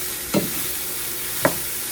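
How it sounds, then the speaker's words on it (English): A spoon stirs an egg roll in a bowl mixture in a pan, making two short scraping strokes about a second apart over a steady low background hiss. "We're going to stir that right in there."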